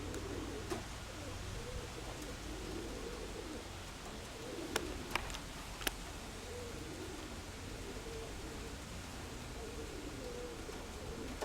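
A pigeon coos softly in a repeating low rhythm against steady outdoor background noise, with a few faint sharp clicks.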